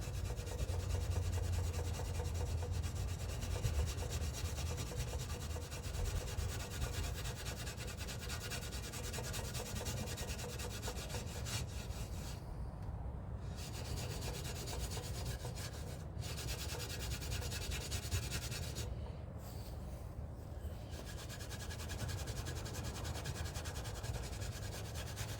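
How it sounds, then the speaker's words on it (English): A chrome front bumper from a 1976 Ford Maverick is scrubbed by hand, producing a continuous close, gritty rubbing texture that runs for the whole stretch with only a few brief pauses. "Alright, I guess you just start scrubbing."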